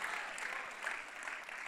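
A church audience claps continuously and fairly loudly, a dense wash of many hands with no pauses.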